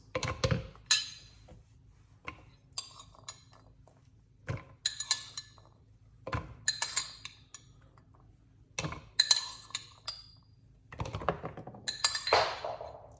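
Small pieces of one cut-up medium-sized carrot dropped into a container, giving a series of close, sharp clinking taps in separate bursts with quiet gaps between them.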